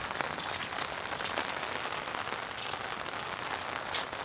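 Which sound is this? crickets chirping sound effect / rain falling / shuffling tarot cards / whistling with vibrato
rain falling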